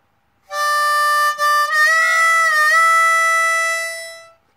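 A single harmonica note sounds for several seconds, briefly breaks, then wavers as its pitch dips and rises in a bend before fading out.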